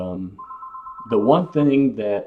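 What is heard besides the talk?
phone ringing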